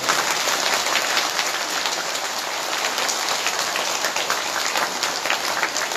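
Sustained applause from an audience gathered for a Bhagavat saptah religious discourse in Assam, a dense, steady patter of many hands clapping at constant loudness throughout, with no speech over it.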